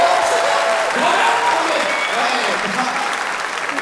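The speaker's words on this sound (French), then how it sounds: "Applaudissements." Audience applause after a song about a grandmother at a concert, dense steady clapping filling the whole stretch with faint voices mixed in, tapering slightly toward the end.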